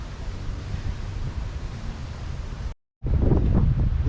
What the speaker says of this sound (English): This part is very windy. You can feel the wind blowing across the ears.